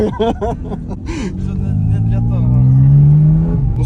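The engine of a 2025 Porsche 718 Cayman GT4 RS revs up to a loud, rising steady whine, held and then dropping off, with people talking over the start.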